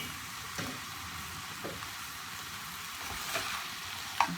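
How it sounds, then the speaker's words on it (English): Flour cooking in a pan for stroganoff while being stirred: a steady soft hiss and sizzle with faint occasional scrapes of the spoon, low and continuous. "you got to keep it stirring it, and you got to cook the flour, which is what we're doing now"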